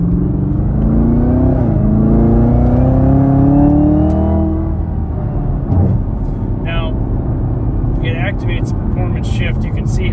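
A Chevrolet Camaro ZL1 in sport mode accelerates hard, its engine note climbing loudly through upshifts with rising pitch, then settling into a rumbling cruise while someone talks over it.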